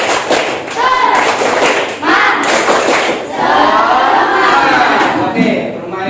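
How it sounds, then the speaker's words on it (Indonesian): A school class performs a rhythmic clapping chant in unison, loud bursts of claps and thumps mixed with children's chanting voices, repeating in short phrases. "Tepuk semangat."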